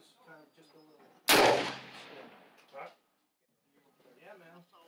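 A single loud, sharp report from a black powder cap and ball revolver cracks out and decays into a long rumbling tail, with people talking before and after it.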